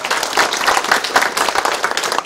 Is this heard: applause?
yes